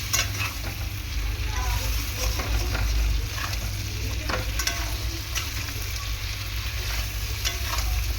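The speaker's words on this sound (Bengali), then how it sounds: "এরকমভাবে সবজিগুলোকে একটুখানি তেলের মধ্যে ভেজে নেবে।" Vegetables including ridge gourd, papaya and sweet potato frying in a little oil, a steady loud sizzle with repeated stirring scrapes of a spatula against the pan, and a low hum underneath.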